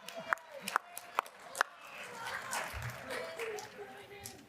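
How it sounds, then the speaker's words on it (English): At the Oxford House World Convention, a handful of sharp, separate claps ring out near the start, then a lively crowd murmur with cheering and voices takes over and carries on at a moderate level. "Let's have another round of applause"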